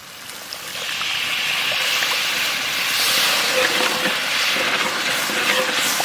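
Water hits a hot pan of ground cumin, coriander and chili paste masala, bursting into a loud, steady sizzling hiss that swells and holds for several seconds.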